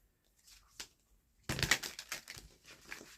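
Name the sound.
tarot cards being shuffled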